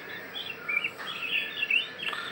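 An oriental magpie-robin (kacer) being tamed gives short, bright chirps and warbles in quick bursts, moderately close against quiet background hiss.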